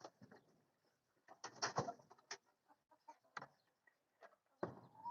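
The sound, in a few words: chickens clucking in their coop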